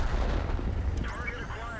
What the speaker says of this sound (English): getting wrecked by the artillery.